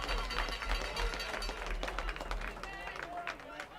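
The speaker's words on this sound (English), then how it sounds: "Great applause for it." Crowd applause and cheering at a Kitchener Panthers versus Barrie Baycats baseball game, a steady dense wash of clapping throughout with broadcast commentary over it.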